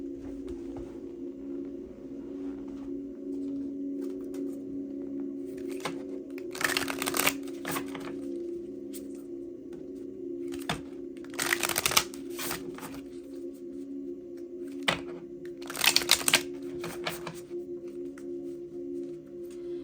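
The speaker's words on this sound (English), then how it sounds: "see what other cards pop up for us here" Tarot cards being shuffled by hand during a love reading, with several loud riffling bursts and softer card handling in between, over a steady low background hum and no talking.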